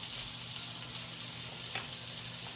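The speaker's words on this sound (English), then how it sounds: "while we're waiting on our steaks to cook beside us there" Steaks cook in butter in a pan, giving a steady, close sizzle and fine crackle that holds at a fairly quiet level with no voices.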